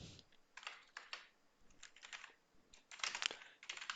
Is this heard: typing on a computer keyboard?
yes